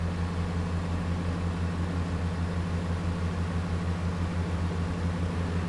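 Diesel train in Train Sim World 2 pulling away in-game, a steady low engine drone with a constant rumbling hum, even and continuous with no voices.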